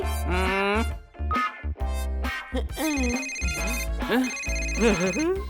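A telephone ringtone plays in a cartoon comedy scene, a repeating electronic melodic ring mixed with animated voices talking over it.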